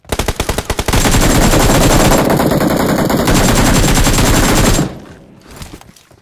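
Loud, close automatic gunfire rattles in PUBG Mobile as an enemy shoots from behind. A few separate shots lead into a sustained burst lasting several seconds, which then cuts off into fainter distant pops.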